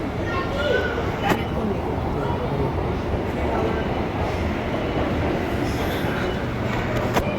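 A metro train passes close by, with a loud sustained rumble and roar of wheels on rails, some faint clicks and squeals, and no clear pauses.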